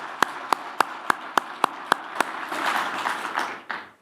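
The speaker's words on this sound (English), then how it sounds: "How about a big round of applause for Kenya?" Keynote audience at the New Cities Summit 2025 in Kenya: a single set of hands claps in a steady, evenly spaced rhythm, then a broader swell of crowd applause rises briefly and cuts off.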